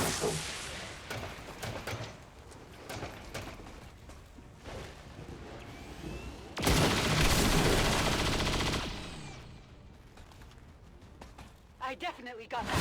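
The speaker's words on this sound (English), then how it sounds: "So instead what we'll do is we will use Dual Strike, which has both him and Twitchy take a shot" Gunfire from a Dual Strike in XCOM 2, with two soldiers each firing a shot, bursts loudly for about two seconds mid-clip over game sounds and scattered clicks.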